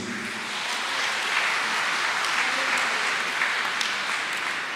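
Congregation at a Sunday Mass applauding the choir, a full, sustained roar of many hands clapping in a reverberant church, steady and even throughout with no speech over it.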